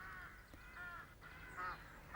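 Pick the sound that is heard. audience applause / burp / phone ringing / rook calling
rook calling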